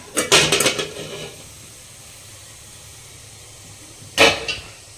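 Metal idli steamer pot lid being lifted off with a sharp clatter and rattle, a brief quiet hiss following, then a second metallic clank near the end; close and loud, no talking.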